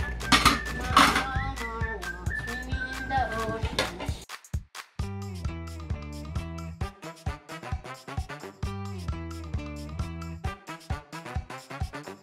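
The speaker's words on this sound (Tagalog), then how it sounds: "pagsama-samahin natin ang mga pinggan at baso" Plates and glasses clink and clatter as dishes are washed and stacked at home, with dense ringing knocks at first, then a steady series of close, sharp, resonant taps.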